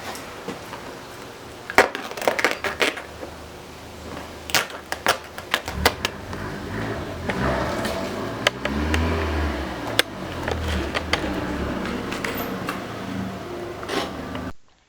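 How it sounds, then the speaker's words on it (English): An X-Acto knife cuts holes in fabric wrapped on a Mk4 Jetta headliner, producing close, sharp ticking cuts and scratchy scraping in irregular bursts with brief pauses, over a faint steady background. "Just take your X-Acto and go ahead and cut the holes open."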